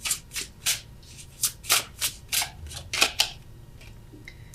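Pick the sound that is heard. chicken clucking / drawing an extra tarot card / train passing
drawing an extra tarot card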